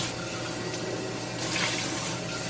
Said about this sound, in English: Because we've got that, I'm just going to add water.